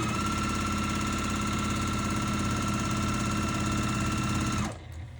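A sewing machine stitching quilt squares together for a layer cake loop quilt runs in a steady, close, rhythmic mechanical whir, then stops abruptly near the end, leaving quiet room sound.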